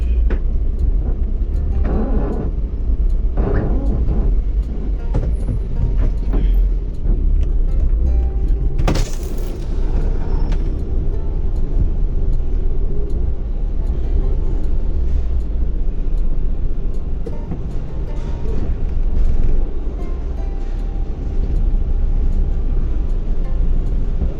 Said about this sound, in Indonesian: sekarang kita mau mundur ya, parkir mundur ya